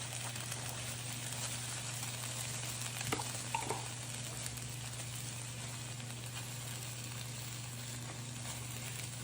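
Pasta and meatballs cooking together in sauce in a pan give off a steady, low sizzle and simmer, with a couple of faint clinks partway through and no talking.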